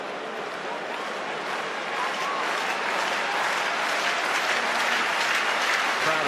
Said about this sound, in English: Crowd as animated as they've been at any stage during the evening.